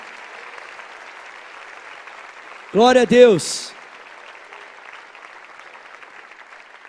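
A church congregation applauds during a worship service as a steady, even wash of distant clapping, briefly overtaken in the middle by a single loud voice calling out.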